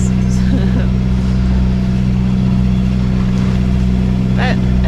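A sailboat's engine drones steadily and loudly while motor sailing offshore in bigger waves, a constant low rumble running throughout, with a voice talking over it.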